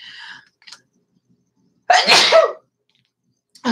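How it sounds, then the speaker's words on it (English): A single loud, sharp sneeze brought on by burning sage indoors, standing alone in an otherwise quiet room, with brief faint sounds just before and after. "I saged in here and it's making me sneeze."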